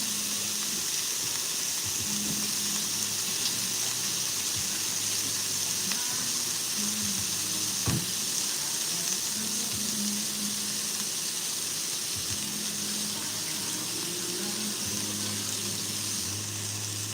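Turkey bacon sizzles and crackles steadily in a small pan with a little olive oil, a continuous close frying hiss with faint clinks.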